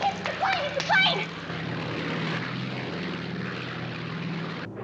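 A propeller airplane drones steadily overhead in a scene from a 1960s sitcom, its engine hum continuous and fairly close, while someone shouts excitedly at the start.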